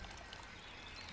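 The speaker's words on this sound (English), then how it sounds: "A nearby fountain whispers in tranquil tones" A nearby fountain sends water tumbling across pebbles in a soft, continuous trickle, quiet and steady with no other sounds over it.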